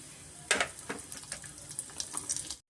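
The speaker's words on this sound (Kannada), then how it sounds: "ಸ್ವಲ್ಪ ನಾವು ಫ್ರೈ ಮಾಡ್ಕೊಳ್ಳೋಣ ತುಪ್ಪದಲ್ಲಿ" Ingredients for jaggery sago payasa fry in hot ghee in a pan, giving a steady close sizzling hiss broken by sharp crackling spurts, with no talking.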